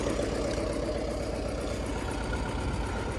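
A John Deere 720 diesel tractor with an oil leak from the blow-by runs steadily, a continuous low, throbbing engine drone at moderate level with no voices.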